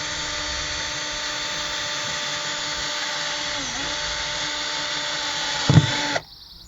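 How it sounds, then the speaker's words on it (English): A power drill drilling holes in a plastic wheelie bin whines steadily at high speed for about six seconds, dipping briefly under load before stopping abruptly. "I simply put my drill on and I held the end"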